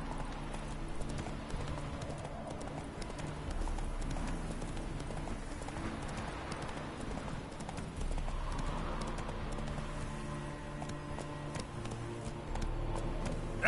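Geralt's horse Roach trots in Witcher 3: Hearts of Stone, hooves clip-clopping steadily and up close across the whole stretch under a continuous game ambience bed, with no talk.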